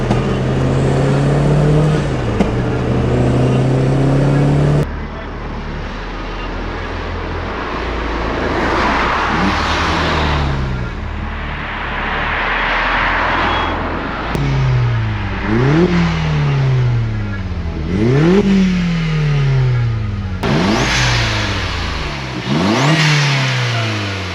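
An engine-swapped MK2 Volkswagen Golf accelerates hard through repeated gear changes, the loud engine note rising and dropping again and again from close inside the car over about twenty seconds, with no talk heard.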